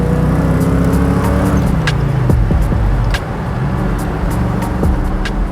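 A 1975 Triumph Stag, a classic British V8, drives with a steady, full engine drone throughout. The tone dips slightly as it shifts into second gear, and there are small clunks along the way.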